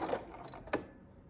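A sewing machine stitches a curved fabric seam in a brief, quiet burst of fast mechanical ticking, with one sharper click near the end.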